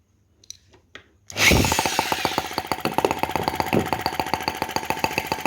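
A small brass Lanz-type half-tracked model tractor engine catches after a couple of faint clicks, then runs close and loud with a rapid, even mechanical chugging.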